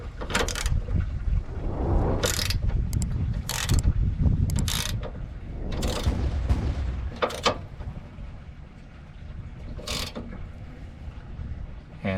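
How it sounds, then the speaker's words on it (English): Outer nut on a Toyota's toe alignment adjuster being tightened with a ratchet or wrench, heard as several loud, close bursts of clicking and metallic rasping separated by short pauses and low background noise. "I can go ahead and tighten the outer nut."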